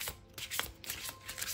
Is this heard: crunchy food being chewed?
no